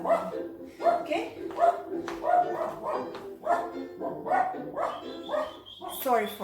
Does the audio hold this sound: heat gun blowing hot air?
no